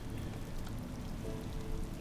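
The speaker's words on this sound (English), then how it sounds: "And we got a nice soothing rain going on." Steady, soothing rainfall in the colony-building video game Rimworld, an even wash of drops pattering on surfaces that holds the same level throughout with no voices.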